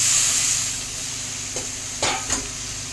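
Green chillies and a splash of water hit a hot pan while cooking a thin rohu fish curry with banana, potato and tomato, giving a steady soft sizzle with a few brief stirring clatters near the end.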